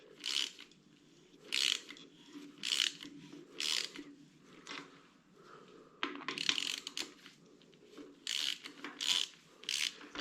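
A hand ratchet slowly unscrews a 7.3 Powerstroke diesel injector cup, a faint series of clicking pawl strokes in uneven bursts with quiet pauses between them.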